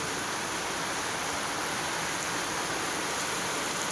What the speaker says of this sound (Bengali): দেখো প্রচণ্ড হারে বৃষ্টি হচ্ছে। এত আরো বেশি জোরে জোরে চলে আসছে বৃষ্টি, খুবই জোরে বৃষ্টি হচ্ছে